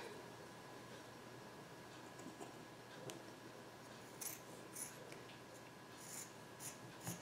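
Scissors snipping through fabric while a no-sew gym top is cut out, quiet close cuts and rustles that come in short bursts over a faint steady background hiss.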